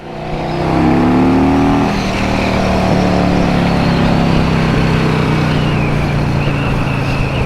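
A warmed-up 1984 Harley-Davidson Tour Glide engine revs on a moderate throttle blip, rising to a loud, steady drone that holds near and full for several seconds before easing slightly.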